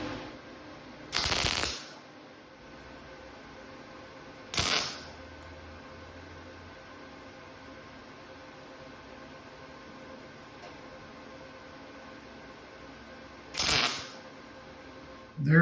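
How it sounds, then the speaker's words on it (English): Tack welding steel tubes and small sheet-metal pieces for an industrial console table: three short, crackling hissing bursts about a second each, separated by long stretches of quiet shop hum. "There it is, all tack welded, all in one piece."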